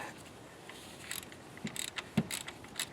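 Ratcheting and mechanical clicks from a wrench tightening a fitting that was loose by about half a thread on a Honda Fit, quiet and close, a few irregular clicks that grow louder toward the end.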